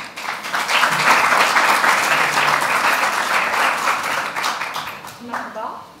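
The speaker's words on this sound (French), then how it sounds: "je vous demande de les applaudir bien fort" A crowd bursts into loud, sustained applause, many hands clapping together before it gradually thins out toward the end.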